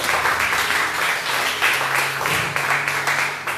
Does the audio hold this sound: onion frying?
no